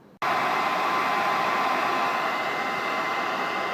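A hairdryer switches on abruptly and blows steadily, warming a car badge on the boot for removal; a loud, continuous, close whoosh with no speech.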